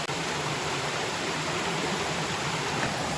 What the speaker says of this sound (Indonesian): Suara gemercik air mulai terdengar, menandakan semakin dekat dengan tujuan